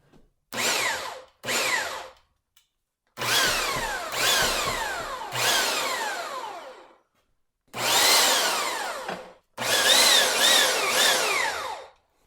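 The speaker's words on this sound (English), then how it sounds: "you can see the drill grabs right on there really easily" A hand drill clamped on a drill press shaft spins up in six separate bursts of loud, whining motor noise, each one rising and falling in pitch, with short silences between them.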